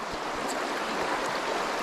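A cold mountain stream in the Great Smoky Mountains runs at a steady, close rush of flowing water with no talking over it.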